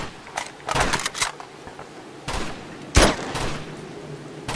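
Several sharp, close gunshots crack in quick bursts, with short pauses between volleys, sounding like game weapon fire from Uncharted 2 multiplayer.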